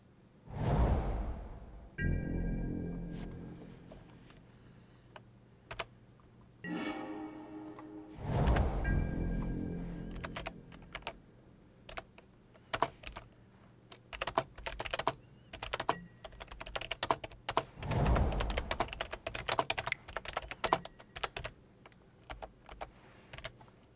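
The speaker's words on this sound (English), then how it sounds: "It's probably just him typing." Typing on a computer keyboard during an online card game: scattered clicks that grow into dense rapid bursts of keystrokes, interspersed with a few louder whooshing swells and soft tonal chimes, close and moderately loud, no one speaking.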